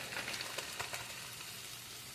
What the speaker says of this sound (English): So I'm just dumping in the seasoning.